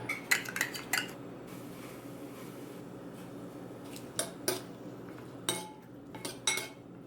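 Sliced cucumbers tossed with a fork in a medium bowl with sambal, rice vinegar, tamari and sesame oil: sharp clinks and scrapes of metal on the bowl in small bursts, separated by quiet pauses.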